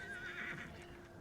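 A horse in a fantasy TV drama episode gives a short, loud whinny, with a faint clip-clop of hooves beneath it, in a brief burst with no talking.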